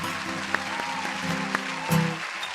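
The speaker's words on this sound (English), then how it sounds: "they just keep applauding louder every time" Audience applause at a virtual online open mic show, a steady wash of clapping with a couple of sharper claps standing out, fairly close and continuing for a few seconds.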